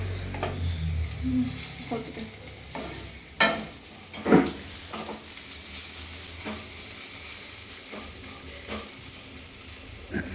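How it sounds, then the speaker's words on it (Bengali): Onions fry in a pan at an outdoor fair cooking stall in Goa, a steady low sizzle broken by clanks of stirring and scraping, while voices talk nearby. "পেঁয়াজ ভাজা হয়ে আমার কাজ শেষ"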